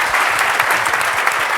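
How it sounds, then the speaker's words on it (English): A crowd at a Future Cities event bursts into sustained applause, dense overlapping clapping filling the whole moment at steady loudness with no voices standing out. "Let's give a huge round of applause"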